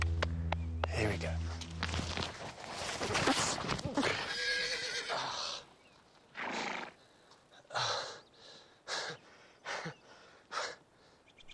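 A horse in the Sierra Nevada wilderness whinnies loudly up close at the start, then hooves clip-clop in a series of separate thuds, with someone speaking over parts of it.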